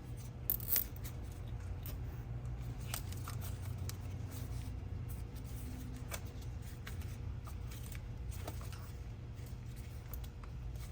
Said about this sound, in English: zip tie cut.